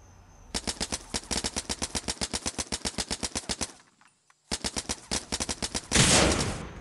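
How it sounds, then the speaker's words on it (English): Uzi submachine gun firing in the mobile game MadOut2: a long burst of rapid, evenly spaced shots, a short silent gap, then a second burst followed by a loud noisy blast, with no talking. "Alright, time for the Uzi test."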